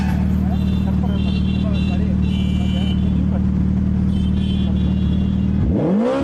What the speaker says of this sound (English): He wanted to hear the sound and rev the bike.